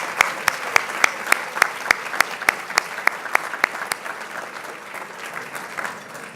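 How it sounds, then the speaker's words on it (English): Audience applause at a press freedom awards dinner, a room full of clapping with sharp individual claps standing out at first, then thinning into a softer, scattered patter before fading. "Let's honor them with a round of applause, please."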